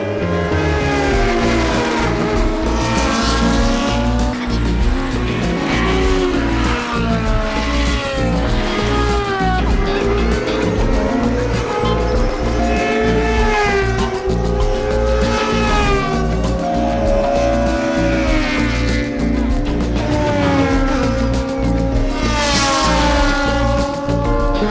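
Race cars, including a blue Toyota Starlet, roar around a circuit, engines loud and close with repeated rising and falling revs as cars pass and shift, overlapping throughout.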